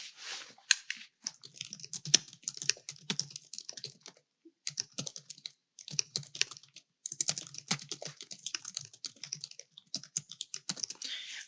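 Someone types on a computer keyboard in a quiet room, with steady bursts of close, crisp key clicks broken by short pauses.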